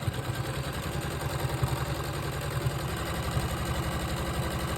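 A sewing machine stitches fabric pieces for a beginner crumb quilt block. It gives a close, steady motor hum with a fast, even mechanical pulse, and no one talks.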